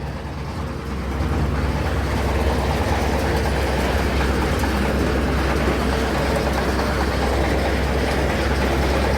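A paddy threshing machine processes whole rice sheaves fed in while still bundled, giving a loud, steady mechanical roar and rattle that swells after the first second and runs on without pause.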